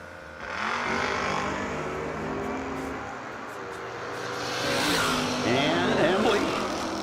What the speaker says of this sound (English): Beeler in the El Camino against Embley Chevelle.